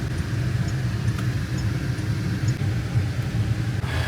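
A car engine hums steadily at low pitch from inside the cabin as the car drives along, a continuous moderate rumble with no talking.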